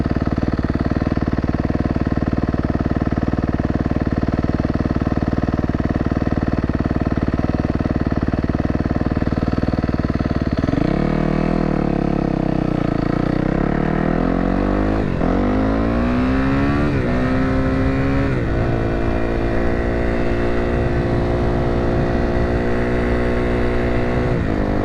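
Motorcycle engine running steadily on a ride past farms, a low constant drone that climbs through rising, shifting revs after the midpoint, loud and close throughout.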